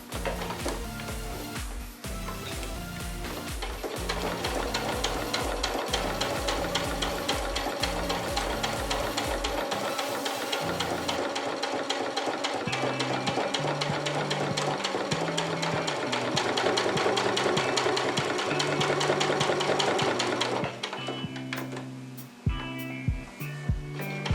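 A sewing machine top-stitches a fabric face mask, running steadily, its needle chattering in a fast, even rhythm for a long stretch before slowing and stopping with a few clicks.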